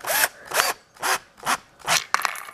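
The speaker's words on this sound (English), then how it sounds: "So I'm gonna go ahead and drill a hole," A power drill bores a hole sized to fit a spring for homemade spring shoes, running in five short, loud whirring bursts with brief pauses between them, close up and with no talking.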